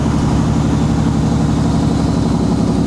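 A 12.7 liter Detroit diesel in a high-mileage Kenworth W900 truck idles with a steady, deep, even rumble, close and loud throughout, with no voices.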